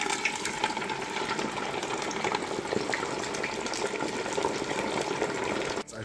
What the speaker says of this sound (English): we have some time now while the fish is frying